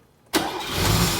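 The engine of a Mercedes W113 280SL Pagoda, fitted with a rebuilt starter motor, fires abruptly out of near quiet. It settles straight into a loud, steady idle close to the microphone.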